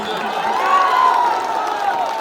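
A political election rally crowd cheers and claps in a dense, continuous roar, with a raised voice riding over the noise.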